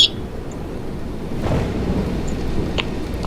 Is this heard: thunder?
yes